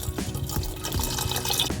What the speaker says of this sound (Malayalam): ഒരു ഗ്ലാസ് വെള്ളം ഒഴിച്ചു കൊടുക്കാം